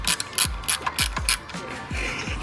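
Ratchet wrench clicking while working on a 2026 Honda Prelude engine mount, a series of sharp, close mechanical clicks in an irregular rhythm, loud and alone.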